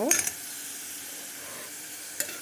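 Chopped onions and green chillies sizzle steadily in a hot pan, a soft continuous hiss with a brief scrape of stirring at the start and another near the end.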